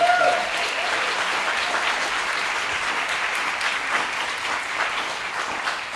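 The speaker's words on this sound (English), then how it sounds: "a round of applause for the Lakewood Playhouse cast of Godspell" Applause at a community theater awards event for the Lakewood Playhouse cast of Godspell, a dense, even roar of clapping from a large audience that continues steadily, with faint voices mixed in.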